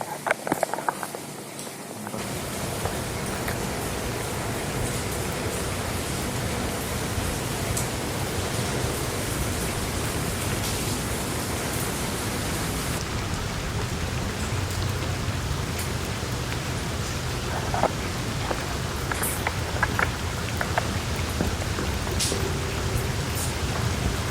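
Steady rain falls and patters on surfaces outdoors, a dense, continuous hiss at moderate level with no talk, heard while walking through it.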